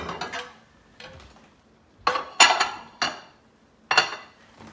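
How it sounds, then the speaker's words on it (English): Plates pulled out in a home kitchen while cooking garlic butter shrimp pasta: a series of sharp ceramic clinks and knocks, several distinct close hits spaced irregularly over a few seconds, with no speech. "Pull a couple plates out."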